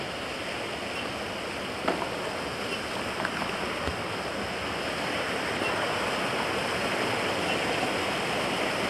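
A stream runs past the water mills at Rebordáns in Tui, a steady broadband rush of flowing water that fills the whole stretch, with a few faint knocks and no talking.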